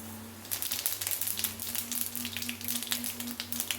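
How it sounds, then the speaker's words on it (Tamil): Fennel seeds hit hot oil in a kadai and burst into a bright, crackling sizzle that starts abruptly and keeps popping close up, with a low steady hum beneath. "கடாயில் எண்ணெய் விட்டுருக்கேன் சோம்பு போட்டுக்கலாம்"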